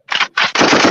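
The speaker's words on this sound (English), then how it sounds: "I know that was a gunshot right there" Gunfire rings out as three loud, close, sharp bursts in quick succession, the last one longer and rougher, with no voices over it.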